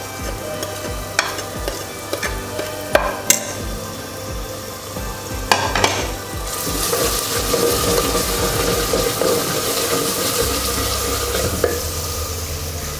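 Onions fry and sizzle in a pan for Lahori street-style chikar cholay, with a few sharp stirring knocks early on and then a steady, fuller sizzle that builds and holds close by, no voices.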